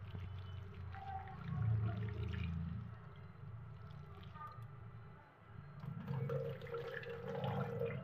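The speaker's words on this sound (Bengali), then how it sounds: "এবার ভালো করে জল দিয়ে ধুয়ে নিচ্ছি।" Cut potatoes and cauliflower are rinsed in water in a kitchen, with steady splashing and sloshing that swells and dips and then continues, a voice faintly heard beneath it.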